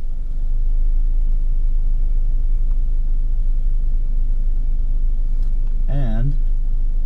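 A car reversing slowly during parallel parking gives a steady low engine rumble throughout, with a brief voiced sound near the end over the idle.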